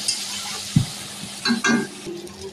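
A soft sizzle in a pan with a thud as fried fish heads go in, then a couple of scraping stirs and light clinks of a spatula against metal.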